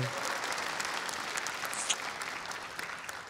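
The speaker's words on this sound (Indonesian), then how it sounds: "Sekali lagi boleh tepuk tangan buat Yuda Ilham" Studio audience at a stand-up comedy competition breaks into steady, even applause for the comedian, a dense patter of clapping that holds throughout at moderate volume.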